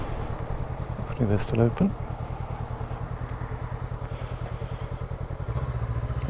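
Honda CB500X motorcycle pulling in and settling to a steady, close idle with a rhythmic low putter, while someone briefly speaks over the engine.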